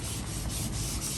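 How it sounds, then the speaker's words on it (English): Sandpaper rubs steadily and closely over pale filler and microballoon patches on a carbon fibre chainplate repair aboard a sailing catamaran. "we're sanding it back to the carbon fibre without affecting it too much"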